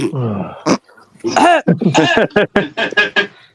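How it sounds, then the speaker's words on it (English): A voice talks, then a sharp cough and throat clearing break in before the talking resumes in quick, close bursts. "Excuse me, that's my cough."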